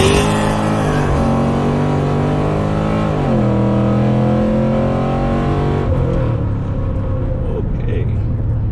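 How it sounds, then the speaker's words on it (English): A car fitted with a GPI Circle D 3600-stall torque converter launches hard, its engine revving loud and close as the pitch climbs in steady steps through shifts, with the tires spinning. "I'm gonna do like a 3200 launch because it's a 3600 stall, like I said, Circle D"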